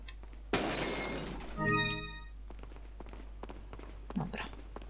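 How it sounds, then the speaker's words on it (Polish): A vase smashes in the Resident Evil 4 video game: a sudden sharp shatter followed by ringing, tinkling debris, then light footsteps and soft thuds at a moderate distance. "Tak, tutaj jest waza do rozbicia."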